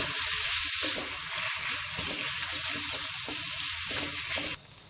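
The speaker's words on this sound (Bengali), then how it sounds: "এবার আমি গরম করে মিশিয়ে নিব" Salt, turmeric and dried chili powder are heated and stirred together in a pan for olive pickle, giving a dense, steady sizzle with stirring strokes that stops abruptly near the end.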